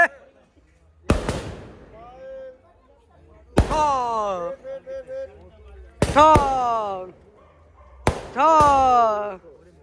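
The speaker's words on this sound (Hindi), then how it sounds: "पटाके शाके शुरू हो गए हैं बल्ले" Firecrackers burst at an Indian wedding procession, several sharp loud bangs spread across the scene, each followed by crowd noise and whistle-like tones, with voices of guests in between.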